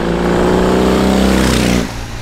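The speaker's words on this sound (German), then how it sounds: "Der Klang der R18 ist ab Werk so lala." A BMW R18 big boxer motorcycle engine revs loud and close with a deep throaty exhaust, holding high revs for nearly two seconds before dropping back toward idle.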